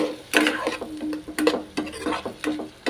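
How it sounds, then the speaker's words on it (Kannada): Green chillies and tomato stirred and fried in a pan, with intermittent spatula scrapes and clacks over a soft sizzle, close and uneven in rhythm. "ಆ ಹಸಿಮೆಣಸಿನ್ಕಾಯಿ ಮತ್ತು ಟೊಮೆಟೊನ ಇದ್ರಾಗ ಹಾಕಿಬಿಟ್ಟೇನಿ ರೀ. ಇದ್ರಾಗ ಹಾಕಿ ಫ್ರೈ ಮಾಡಿದ್ರಿ."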